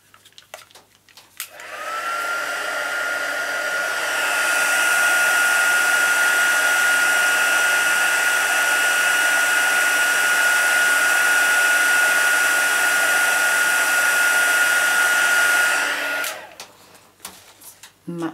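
Heat gun blowing hot air to melt embossing powder on Christmas baubles, a steady loud whoosh with a faint whine that starts after a moment, runs about fifteen seconds, then cuts off.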